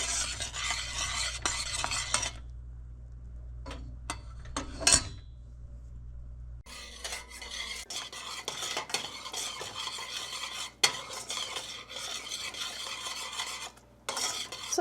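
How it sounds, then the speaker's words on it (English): A utensil stirs boiling caramel in a pan with steady scraping and clinking. A low hum drops out partway through, the stirring stays close and continuous, and the bubbling hiss is faint under it. "Stir constantly for 2 to 3 minutes."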